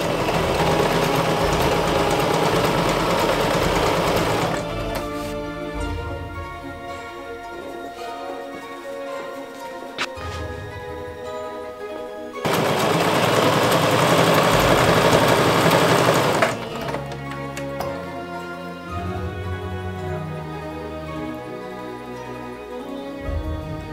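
Sewing machine stitching the centre back seam of a vampire cloak, running in two loud sustained bursts with quieter clicking and handling between them, no talking.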